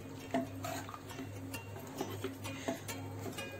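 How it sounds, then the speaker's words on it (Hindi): Grated taro (arbi) being stirred into a mixture in a pan, with soft scraping and occasional light clinks of a spoon against metal over a steady low background hum. "जो अरबी है ये डाल के इसमें मैंने ये चला दी है, जिससे ये इसमें इवनली मिल जाए"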